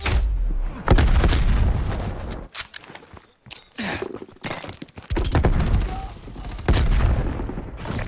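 Grenade blasts and gunfire in Call of Duty Black Ops Cold War multiplayer: heavy booming explosions and rapid bursts of automatic fire in several loud waves, with short quieter gaps between them.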